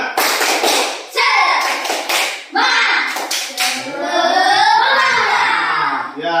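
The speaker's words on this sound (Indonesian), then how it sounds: "Ya, tepuk semangat." A school class performs a rhythmic spirit clapping cheer, loud bursts of clapping in patterned groups mixed with children's shouting voices, close and energetic.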